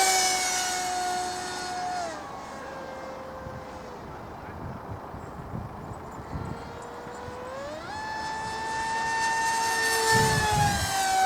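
A Hobbyking Skyfun RC jet makes fast passes overhead, its high electric ducted-fan whine rising and falling in pitch as it comes and goes, with faint voices and wind in the background.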